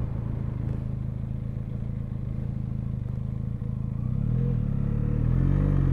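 A Benelli Leoncino 500 motorcycle rides around a roundabout, its engine a steady close thrum that rises into a stronger, rising drone as it accelerates near the end, with no talking.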